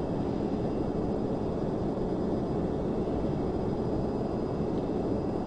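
Airliner engines in Microsoft Flight Simulator X roar as a steady, loud broadband rush with no change for the whole stretch, no voices over it.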